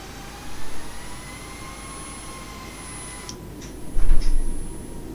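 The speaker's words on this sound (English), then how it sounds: "We're going to go ahead and taxi out here." An Airbus A320neo taxiing in Microsoft Flight Simulator 2020, heard as a steady jet engine hum with high whines, a few soft thumps, and brief clicks and a louder bump near the end.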